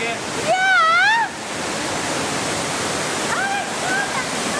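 Water pours from about 66 feet up inside a cave, a steady broadband rush heard throughout, with voices talking over it in places.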